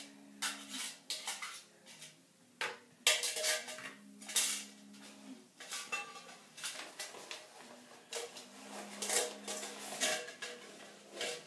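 Metal pots from a backpacking cook kit and an alcohol stove clink and rattle as they are packed into their case, a steady run of close, bright clatters and scrapes with brief pauses.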